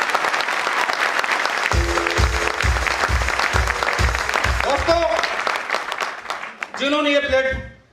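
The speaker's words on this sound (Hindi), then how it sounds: "जोरदार ताली दोस्तों" Loud audience applause fills a celebration hall at an AWPL Ruby Diamond event, dense and sustained throughout, with a rhythmic low thumping beat and brief music tones underneath before tapering near the end.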